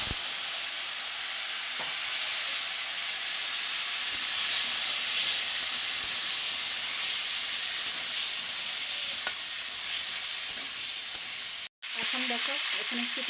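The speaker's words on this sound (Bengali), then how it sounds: "এখানে চিকেন ভাজা চলছে" Chicken pieces fry in hot oil in a kadai, a loud, continuous sizzle and hiss with faint stirring clicks, running steadily before a brief break and a quieter tail.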